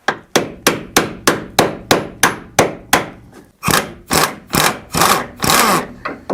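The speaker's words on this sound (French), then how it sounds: "j'hésite pas à planter la douille au marteau" A socket is driven onto a rusted engine mount bolt with a hammer: about ten sharp, evenly spaced blows ring out close by, followed by several rougher, longer grinding strikes, with no talking.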